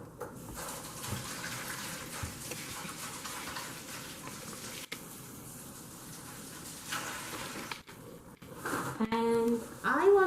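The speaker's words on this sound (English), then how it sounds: "I'm going to wash my hands." A kitchen tap runs steadily as hands are washed under it in a home kitchen during cupcake baking, a continuous close water rush lasting most of the stretch before it cuts off, with brief clinks and a voice near the end.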